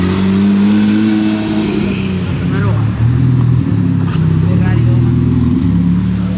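A Porsche 992 GT3 Touring passes in the street in Monaco, its engine loud and close, rising and falling through revs with a harmonic sweep as it goes by.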